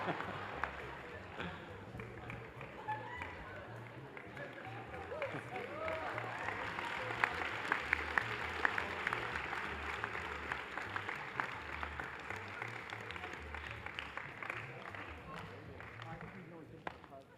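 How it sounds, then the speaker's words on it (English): Applause for medical students at a Class of 2028 white coat ceremony, a sustained audience clapping that swells in the middle and fades gradually, heard from within a large hall. "Let's give these students another round of applause."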